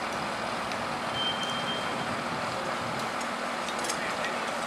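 A heavy construction vehicle transporting blocks rumbles steadily close by, with faint high beeps now and then under a broad wash of outdoor noise.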